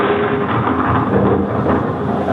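Heavy rain sound effect with a dense, loud, continuous rush and low rumbling like a downpour in a storm.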